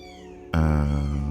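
After a brief quiet start, a loud, sustained cat cry suddenly breaks in and holds to the end.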